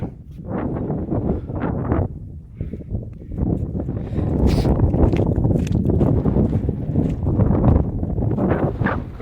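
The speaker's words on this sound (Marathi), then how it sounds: "थोडंसं वारं सुटलंय, मस्त हवा लागते थंड थंड" Wind gusts across a hilltop fort on a trek near Junnar, a steady rough rumble buffeting the microphone close up throughout, rising stronger in the second half.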